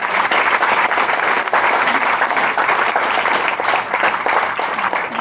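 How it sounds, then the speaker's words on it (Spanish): A congregation at a church prayer group retreat applauds loudly and continuously, thick close clapping sustained throughout with no break. "Fuerte el aplauso al Señor. Fuerte."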